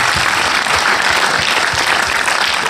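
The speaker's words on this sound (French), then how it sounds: "Applaudissez-vous, voilà" Audience applause at a French film premiere screening, a dense, steady clapping crowd filling the room close and loud, sustained evenly throughout with no voices over it.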